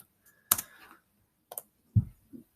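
A few sparse keystrokes on a computer keyboard, typing a search query: isolated, close clicks in a quiet room, irregularly spaced with a soft thump near the end.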